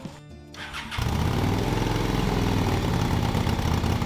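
Honda Shadow 600 motorcycle engine, after sitting six years in a barn, catching and settling into a loud, steady, slightly uneven idle while warming up with the choke off, heard up close.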